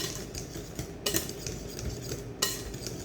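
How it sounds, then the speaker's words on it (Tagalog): A utensil stirring banana blueberry cake batter in a bowl, with soft repeated scraping and two sharper clinks against the bowl, close and without talk. "Halo-haloin muna natin."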